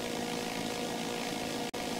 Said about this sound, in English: Now let's check out this drone, what it's like. Yeah, it does make some noise